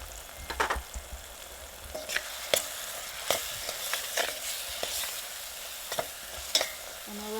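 Dried Kashmiri chili crackles and sizzles in hot oil during a home sabzi preparation, with a steady fry punctuated by a series of sharp, close scraping stirs of a spoon against the pan.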